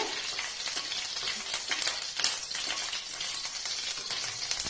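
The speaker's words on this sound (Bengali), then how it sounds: "এর ভেতরে শুকনো লঙ্কাগুলো দিয়ে আমি একটু ভেজে নেব" Dried red chillies sizzle in hot oil in a karahi, a steady close crackling fry with occasional stirring scrapes and no talk.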